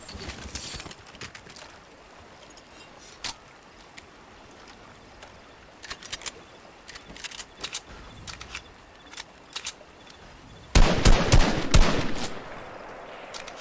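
Bursts of gunfire in the battle royale game Fortnite, scattered sharp shots through the first ten seconds, then a louder, denser volley near the end; no talking.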